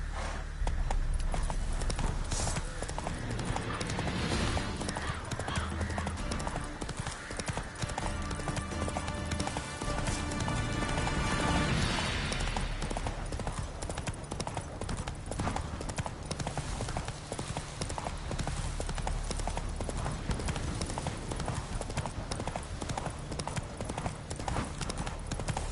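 A horse gallops in The Witcher 3, quick rhythmic hoofbeats pounding close and loud without pause, laid over dense game ambience and music.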